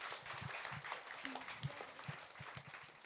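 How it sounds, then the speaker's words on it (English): Faint, steady applause from an audience at a first-grade school program, a soft continuous patter of clapping heard from a distance in a reverberant hall. "Another round of applause for our first graders."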